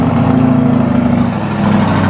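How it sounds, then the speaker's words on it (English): A Lamborghini Urus tuned to over 700 horsepower, with Fabspeed downpipes, idles high right after a cold start: a loud, steady, deep engine drone with a firm low hum, close by and alone. "let's give you a cold start of our Lamborghini Urus"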